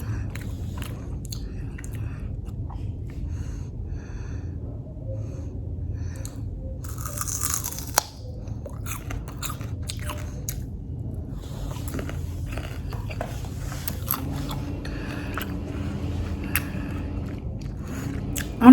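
Someone bites into and chews a starfruit picked straight from the tree, with crisp crunchy bites and wet chewing close up against a faint outdoor background, no talk.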